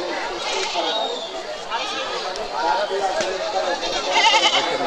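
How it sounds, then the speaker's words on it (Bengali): Local goats bleat at a Bangladeshi livestock market, several nearby calls rising over a constant murmur of crowd chatter and people talking. "আকৃতির এই বুড়ানি ছাগল বা পাঠি ছাগল"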